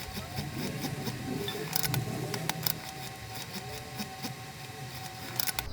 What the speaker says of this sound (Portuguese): E agora eu vou fazer uma costurinha de segurança prendendo esse viés.